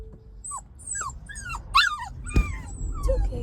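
Nervous puppy whimpering inside a small kennel, a string of high, wavering whines and yips with a few soft growly sounds, close and fairly loud, no talking.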